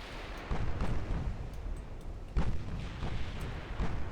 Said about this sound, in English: Second torpedo salvo, come on. Torpedoes away.